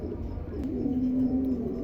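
A pair of young adult Lahori pigeons coos softly, one low steady call drawn out and sliding in pitch, close up over a faint background murmur.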